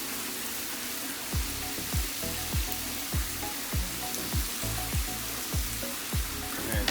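Wet rice cooking on a Blackstone griddle, a broad steady sizzle with soft regular thumps beneath it, close and continuous.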